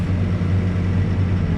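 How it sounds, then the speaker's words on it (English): A Takeuchi TL12 compact track skid loader moves spoils while footings are dug, giving a steady, loud low engine drone with no pauses. "skid, compact track skid loader, or whatever you call them things, over here moving spoils"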